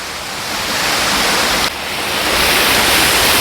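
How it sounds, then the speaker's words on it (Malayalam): Waterfall at Vattavada in Munnar roars as a loud, steady broadband rush of falling water close by, with a brief dip midway before the torrent swells back, no voices present. "നേരെ വെള്ളച്ചാട്ടം തൊട്ടടുത്ത് പോയി കണ്ടിട്ട് വരാം"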